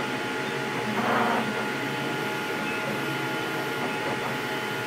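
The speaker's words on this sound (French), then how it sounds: "L'imprimante, mesdames et messieurs, fait beaucoup de bruit" A Flashforge Creator 3 3D printer runs with a constant mechanical hum and whirring fan noise, fairly loud and steady, with a brief swell of motor movement near the start.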